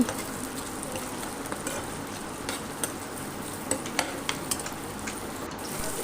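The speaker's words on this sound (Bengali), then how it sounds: "তারপরে একটু লাল করব পেঁয়াজটাকে।" Onions frying in a pan for homemade chili fish, a steady soft sizzle with occasional faint ticks and scrapes of stirring, close and continuous without talk.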